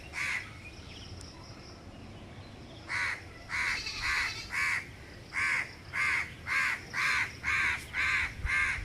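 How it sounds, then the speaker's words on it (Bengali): Birds calling at dusk on a hillside road in Port Blair, Andaman: after a quiet stretch with faint distant chirps, a crow-like bird caws repeatedly in a steady, evenly spaced series, fairly close and loud. "পাখিদের কলরব"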